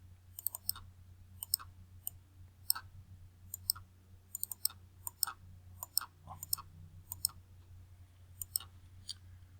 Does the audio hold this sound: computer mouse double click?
yes